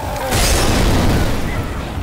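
A pipe bomb exploding in Left 4 Dead, a loud, close, rumbling boom that swells and lingers as a dense roar for a couple of seconds.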